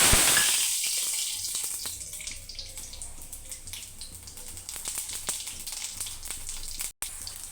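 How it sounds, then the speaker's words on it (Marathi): Cumin seeds hit a spoonful of hot oil and sizzle, a bright crackling hiss that starts strong and settles into a steady, softer spitting and popping. "1 चम्मच तेल आपलं गरम झालेलं आहे मस्त. त्याच्यामध्ये मी आता जिरा टाकते"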